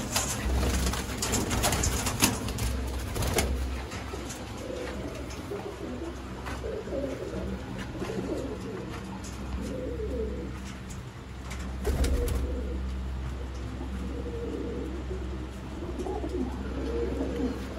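Sialkoti golden pigeons of the dab variety coo steadily in soft, repeated low calls, close by, with occasional wing flutters, faint chirps and a bright hiss of background noise.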